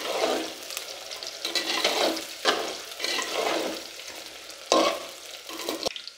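Sliced onion frying in hot oil in a pan, browning for a Jharkhand chicken pitha, a steady close sizzle with bursts of stirring and scraping rising and falling, no voices.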